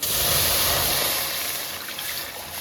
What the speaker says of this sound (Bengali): কড়াই গরম হয়ে গেছে দিয়ে দিচ্ছি জল